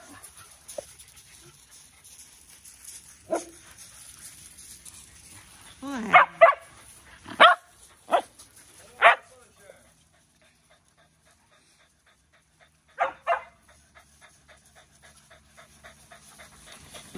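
Muddy dog giving several short, close barks and yips in bursts, with quiet gaps and light panting between.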